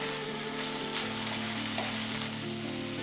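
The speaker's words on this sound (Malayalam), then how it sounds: "ഇതെല്ലാം കൂടി നമുക്കൊന്ന് ഇളക്കാം." Banana flower stir-fry with cooked dal, salt and crushed spice paste sizzles steadily in a pan, a continuous close frying hiss with light stirring scrapes and no voices.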